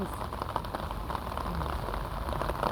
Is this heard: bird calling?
no